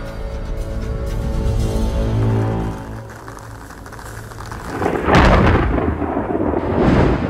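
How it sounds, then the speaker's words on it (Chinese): Thunder rumbles outdoors during a televised running game show, a long low roll building then fading, followed by a sharp, loud crack and sustained roar near the end. "打雷了！"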